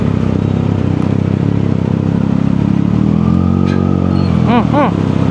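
A 2025 Triumph Daytona 660 fitted with a Palit exhaust revs loudly and close, with a sustained engine roar and rising pitch toward the end, while a voice talks over it.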